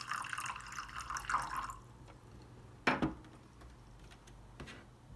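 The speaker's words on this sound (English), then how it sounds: "You want to pour yourself some water." Water pours from a Brita filtration dispenser into a glass, a close trickling stream for about two seconds, then a few scattered drips and one brief louder splash.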